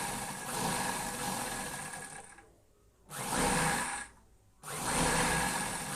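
A sewing machine stitches folded fabric over buckram while a lining suit is sewn, running in bursts that whir steadily, stop briefly twice and start again, close up with no voices.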